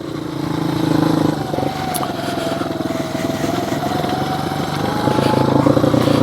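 Skybike Liger 2 motorcycle ridden in third gear, a steady engine drone with road and wind rush and a slight rise in pitch as it pulls along.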